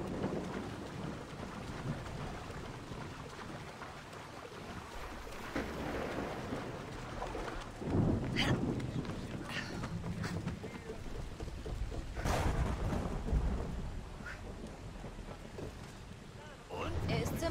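Rain and rumbling thunder sweep through the video game Assassin's Creed Odyssey, a continuous wash of falling rain and wind with several heavy low thunder bursts, a voice talking faintly now and then.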